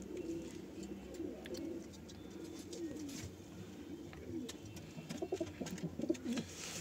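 Pigeons in a newly opened breeding loft coo softly and continuously, a quiet, fairly distant rolling murmur filling the space.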